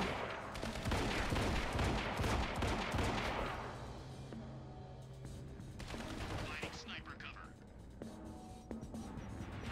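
Dense bursts of gunfire and explosions from the video game Quantum Break, loud and rapid in the first few seconds, then thinning to scattered shots and blasts.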